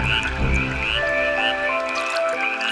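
A male tree frog calls loudly and close, a continuous rasping croak with shrill overlapping tones that holds steady for the whole stretch, nothing else heard.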